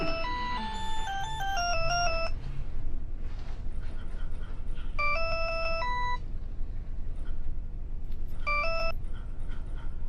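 A melodic electronic telephone ringtone plays in three separate bursts over a low rumbling background, fairly faint, with pauses between each ring.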